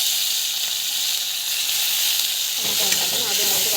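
Tomato for upma sizzles in a hot pan, making a steady close hiss of frying with faint stirring and no talking.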